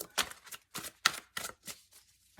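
Tarot cards being shuffled, a series of short crisp riffling bursts in a loose rhythm, close and quiet with silence between them.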